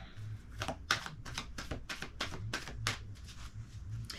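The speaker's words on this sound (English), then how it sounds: "Ooh, can't shuffle that way." Tarot cards being shuffled by hand, a rapid series of crisp riffling bursts and soft slaps in an uneven rhythm, close and moderately loud over a low background hum.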